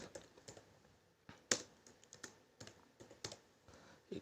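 Python code is typed on a computer keyboard, a quiet, close run of irregular key clicks with one sharper tap near the middle and no talking.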